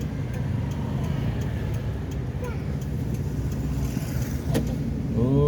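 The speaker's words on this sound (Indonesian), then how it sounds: "Ini banyak kali kendaraan melintas ini teman-teman." Vehicles pass along a street, a continuous close rumble of car traffic with ticking and a faint voice briefly heard beneath it.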